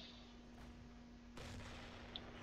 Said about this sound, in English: and we fire a shell